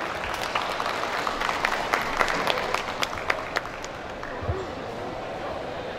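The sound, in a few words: audience applause for the first speaker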